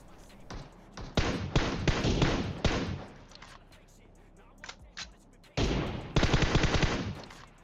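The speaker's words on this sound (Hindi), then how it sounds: "यहाँ से गोलियाँ चलाने की कोशिश करने लगता हूँ" Gunfire in the mobile battle game PUBG Mobile comes in rapid automatic bursts, two dense volleys separated by quieter single shots and a lull, fairly close and loud.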